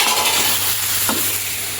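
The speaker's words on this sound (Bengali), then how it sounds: "তো এই কাঁচা পেঁপেটা আমি হচ্ছে কুচি কুচি করে কেটে ভাজি করতেছি।" Finely chopped raw papaya fries in a wok, making a close, steady sizzle with a brief stirring scrape.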